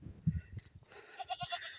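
A goat bleats in a Nepali hill village in Okhaldhunga, a short, faint, wavering call rising over low rustling and handling noise near the end of the moment.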